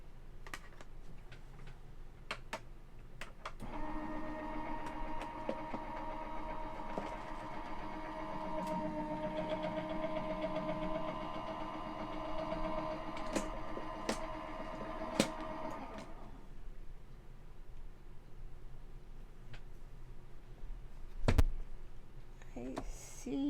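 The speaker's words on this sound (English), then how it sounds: "let's try it through the machine" A craft die-cutting machine runs steadily for about twelve seconds with a mechanical whir and faint ticking, then stops, followed by quieter handling noises and occasional light clicks.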